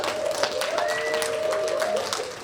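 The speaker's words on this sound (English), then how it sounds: "a big round of applause as we go through for our brand new artists" A convention crowd at a fan-convention art panel applauds new artists with a steady wash of clapping over a couple of seconds, while a whistle-like tone rises and holds through part of it.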